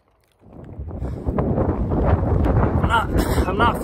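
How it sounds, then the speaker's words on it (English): Strong wind buffets the microphone on an open, barren desert trail in Arizona, a low roaring rumble that swells in after a quiet start and stays loud and gusty. "It's just so windy right now."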